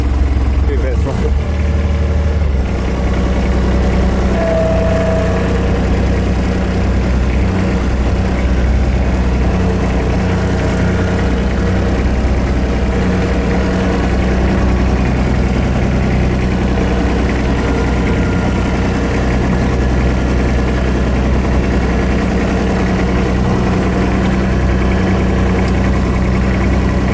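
A Kubota B2100 compact tractor's engine runs steadily and loudly close by, a continuous low chugging drone with a slight rise as throttle is applied early on, and speech is faintly audible over it.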